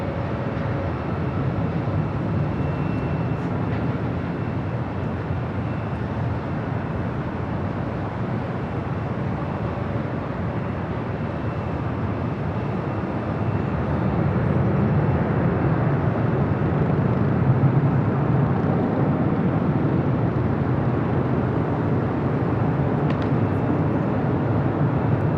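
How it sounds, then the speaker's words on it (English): Boeing 787 Dreamliner jet departing Los Angeles airport for Rome, a steady broadband engine roar that swells slightly louder partway through and holds, with no voices. "that is the Dreamliner heading to Rome"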